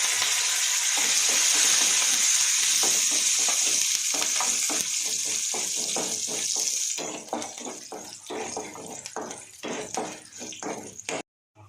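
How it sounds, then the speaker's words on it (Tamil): Loud steady sizzle of black pepper, fenugreek, dried berries and curry leaves frying in oil for a Tamil vathal kuzhambu, with scraping stirs turning into rhythmic spoon strokes against the pan in the second half. "இப்போ இது நல்லா வறுத்துக்கிட்டு இருக்கு"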